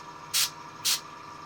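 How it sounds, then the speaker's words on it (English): Paint sprayed onto a miniature figure's tabard in two short, sharp airbrush-style hisses about half a second apart, close and clear over a faint background hum. "I'll spray it on his tabard here."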